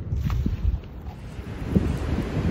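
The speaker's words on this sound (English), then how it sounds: "it's major windy, so I doubt I'll be able to block any of this wind" Strong wind buffets the microphone outdoors while metal detecting in continuous rumbling gusts, with no other clear sounds.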